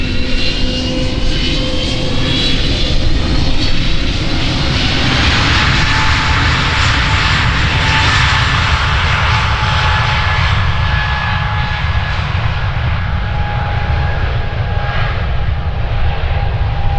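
A jet airliner departing Amsterdam Schiphol Airport from runway 36L roars in a loud, steady rumble, its engine whine sweeping down in pitch as it climbs away, with no talk over it.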